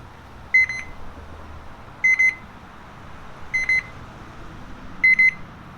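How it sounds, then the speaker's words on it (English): Meat thermometer alarm going off as a smoked turkey reaches temperature: four evenly spaced bursts of sharp, high electronic beeps, each a quick double or triple chirp, over quiet background hiss. "Any button to stop the alarm"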